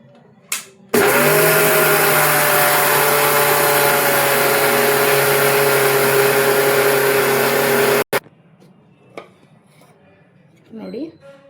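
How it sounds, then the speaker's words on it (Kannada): A mixer grinder jar pulverises semolina and sugar for a stovetop cake batter, starting abruptly with a loud, steady motor whine that runs for about seven seconds, then cuts off; brief clatter and a faint voice follow. "ಇವಾಗ ಇದನ್ನು ಮಿಕ್ಸಿ ಜಾರಲ್ಲಿ ಗ್ರೈಂಡ್ ಮಾಡ್ಕೊಳ್ಳೋಣ."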